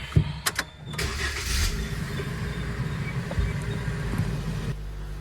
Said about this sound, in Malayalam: ഐശ്വര്യമായിട്ട് വണ്ടി സ്റ്റാർട്ട് ചെയ്യാം